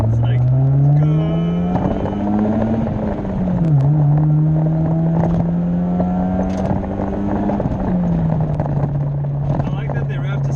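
Engine of a 1990 Mazda Miata droning steadily as the car accelerates, pitch climbing, dipping at a gear change, then holding, loud and close inside the cabin with wind noise and people talking over it.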